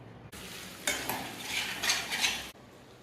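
A spoon stirs chicken curry in a pan after coriander powder and two green chillies go in, giving a continuous close scraping swirl with light sizzle that swells in the middle and stops abruptly, with no talking.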